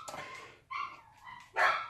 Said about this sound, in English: I apologize for all the barking back there because these guys are like going bananas